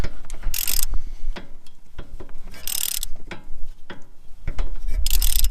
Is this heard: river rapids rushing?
no